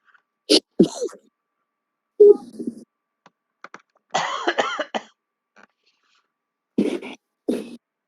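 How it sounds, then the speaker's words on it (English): Several short, sharp coughs come in bursts with pauses between them, close and fairly loud, with no talking. "I've been having this weird cough for like the last month"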